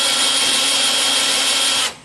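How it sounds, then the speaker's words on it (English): A power drill whines steadily as it bores small holes through a fan shroud, loud and close, cutting off abruptly near the end. "I'm going to drill small holes all the way around the edge of this"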